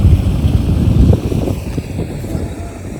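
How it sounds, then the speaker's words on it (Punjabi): Steady cold wind rushing and buffeting the microphone outdoors on a farm, a continuous low roar with no voices. "ਅੱਜ ਮੌਸਮ ਵੀ ਠੰਡਾ ਹੋਇਆ ਵਾ ਹਵਾ ਚੱਲਦੀ ਠੰਡੀ ਠੰਡੀ ਜੀ"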